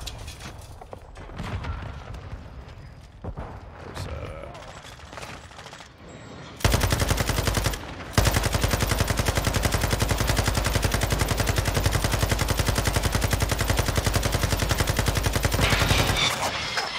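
Rapid automatic fire from a Glock 18 in a shooter video game, a long, loud, dense burst of evenly spaced shots lasting several seconds after a brief pause, following quieter scattered in-game sounds.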